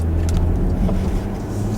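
A car engine hums steadily while driving onto a motorway, with road noise rumbling underneath.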